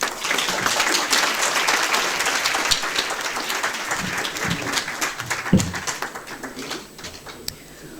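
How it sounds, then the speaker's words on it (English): A large conference audience at an Africa development summit applauds steadily, a thick wash of clapping that thins toward the end, with a faint voice and a brief thump partway through. "can we give them a warmer round of applause, please?"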